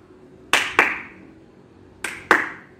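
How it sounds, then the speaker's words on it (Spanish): Two pairs of sharp hand claps, each pair a quarter second apart, with a pause between pairs, made during a basketball drill of throwing the ball up and clapping before catching it; close and clear, no talk. "Aplaudimos dos veces."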